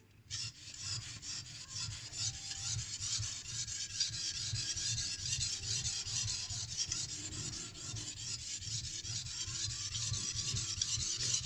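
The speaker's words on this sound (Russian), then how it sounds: "Этот камень у нас King Deluxe номер 1000. И продолжаем заточку." A knife blade is sharpened on a King Deluxe 1000 whetstone, giving close, rhythmic rasping strokes in a steady back-and-forth pattern, alone without speech.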